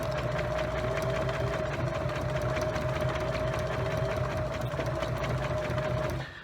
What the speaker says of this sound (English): from this point forward, I'm going to make the length of my stitch as long as possible. And we're gonna call that a basting stitch. And then I'm going to sew this all the way down